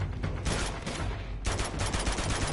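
Sustained automatic gunfire in Uncharted 2, dense rattling bursts that pause briefly and then resume harder, loud and close with no talk over it.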